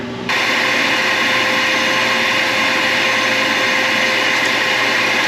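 A vacuum cleaner clears powder coat overspray off a steel fire pit built as a Ford truck replica, starting abruptly and then running as a loud, steady, close whine that stays constant with no talking.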